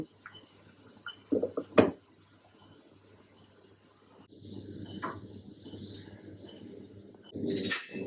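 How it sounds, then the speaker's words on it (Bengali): A lid is set onto a cooking pot while ghee rice with vegetables cooks, giving a couple of close, brief metallic clinks and knocks, followed by a quieter stretch of low kitchen noise and another light clatter near the end. "আবার ঢাকনি দিয়ে দিব।"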